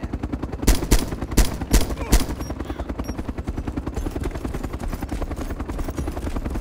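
Gunfire in the video game Arma 2 DayZ Overpoch: several sharp, loud shots in quick succession early on, then a rapid chattering run of fainter shots, all over a steady helicopter-like rotor drone.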